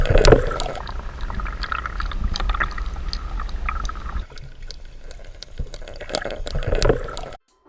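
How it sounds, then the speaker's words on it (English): A big, heavy, chunky MirrOlure Top Dog walk-the-dog topwater plug rattling underwater during a kayak fishing test, a steady stream of sharp clicks over murky water noise, briefly dropping off near the end. "Now this top water plug has a much louder clicking sound, a much brighter sound."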